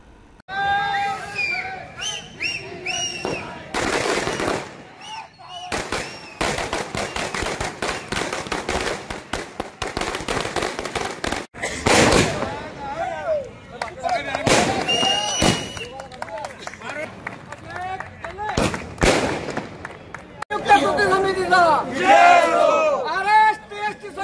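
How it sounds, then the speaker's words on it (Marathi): State transport corporation employees in Maharashtra setting off firecrackers in celebration: sharp bursts and crackling volleys go off repeatedly, amid a cheering, shouting crowd and voices. "सरकारच्या या निर्णयाने कर्मचाऱ्यांनी फटाके फोडून स्वागत केले."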